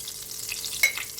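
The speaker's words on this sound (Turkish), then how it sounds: "Şimdi yağımızın içine Arkadaşlar pul biber atıyoruz." Red pepper flakes dropped into hot oil in a pan, a brief soft sizzle and crackle with a small sharp pop near the end, quiet and close.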